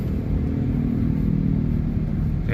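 Steady low engine rumble of a Proton Saga car moving slowly through a jammed Kuala Lumpur street, a continuous close droning hum with faint road noise and no speech.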